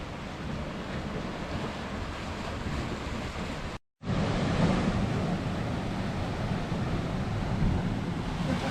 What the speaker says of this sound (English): these waves are ripping right in here